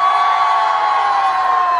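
A festival crowd at the Hampyeong Butterfly Festival lets out a sustained cheer, loud and steady for about two seconds, with a bright whoop-like tone running through it.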